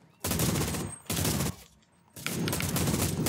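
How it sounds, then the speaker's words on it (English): Automatic gunfire in the CRSED shooter game comes in three long bursts of rapid shots. The bursts are loud and near, separated by short quiet gaps. "Where the fuck did he go? I'm shooting."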